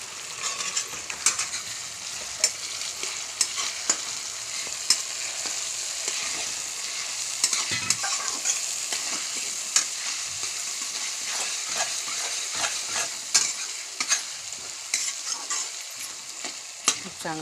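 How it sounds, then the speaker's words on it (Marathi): Crushed garlic and chopped tomato sizzle steadily in hot oil for tempering a vegetable dish, with the scrape and clatter of stirring throughout and no talking. "लसूण ठेचून घेतलेला आवाडधोवाडच मागाचाच लसूण तो फोडणीला दिला आहे. आणि त्यात टमाटर टाकले फोडणीला"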